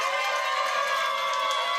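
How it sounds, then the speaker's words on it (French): Audience applause for a young French individual debate champion at a televised eloquence contest, a steady, dense wash of clapping with crowd cheering throughout. "On l'applaudit, s'il vous plaît."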